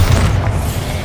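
Bombarda spell explosion in the video game Hogwarts Legacy: a loud, sustained booming blast with heavy low rumble that fills the whole moment without pause.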